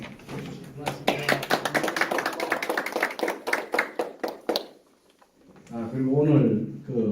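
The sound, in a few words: audience applause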